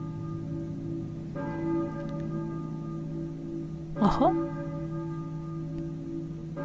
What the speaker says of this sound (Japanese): 鐘の音、教会の鐘か。